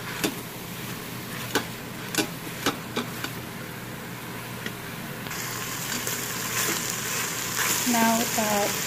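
Onions fry in oil inside an Instant Pot with garlic and ginger paste, giving a steady sizzle and hiss under a few sharp clinks of a utensil against the pot.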